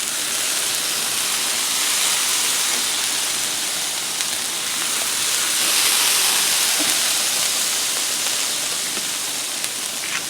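Water squirted onto a hot Blackstone griddle during a breakfast scramble cook, with cheese melting, gives a steady broadband sizzle and steam hiss that runs continuously for the whole stretch and swells slightly midway, with no talking over it.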